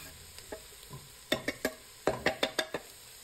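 Garlic fries with softened onion and fennel in a pot for a cioppino seafood stew, a low sizzle under a quick run of sharp spoon taps and stirring knocks, close up and without talk.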